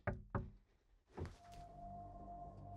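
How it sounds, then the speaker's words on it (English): Two sharp, hollow knocks sound close together inside a quiet house, followed after a pause by a duller thump and a faint lingering hum. "I heard a knock."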